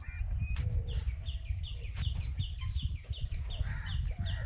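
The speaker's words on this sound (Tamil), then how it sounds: "மேலே கிளி, ஒரு குயில் உட்காந்துருக்கு" Birds calling in fruit trees, a parrot and an Asian koel, with repeated sharp chirps and calls sounding near and far over a low rumbling background hum, and no talking.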